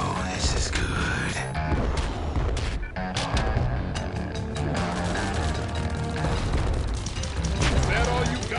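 Bomb explosions and booming tower fire in the tower defense game OTTTD, set in the Toothy Marshes level, rumble densely and continuously under a busy layer of game effects, with someone talking throughout.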